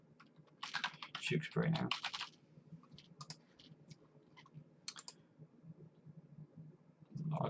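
Quick bursts of keystrokes on a computer keyboard while a page map is being set up, a dense clatter early on then scattered taps, with a person talking quietly over it.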